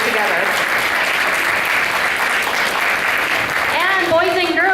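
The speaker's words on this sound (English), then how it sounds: "I want to give a big round of applause to Mrs. Durning" A school audience of children and adults gives a dense, steady round of applause, loud and sustained throughout, with a voice starting to speak near the end.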